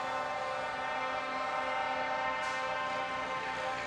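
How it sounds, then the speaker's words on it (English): Air horn blasting at a European truck racing championship event at Most, one long sustained chord-like blare that stays steady and loud throughout, with no talking. "That's a proper horn, whoever's sounding that one."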